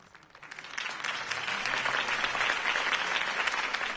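Crowd applause breaks out after Harvey Dent's campaign speech in a Batman video game, swelling from quiet to a steady, dense roar of clapping that holds throughout.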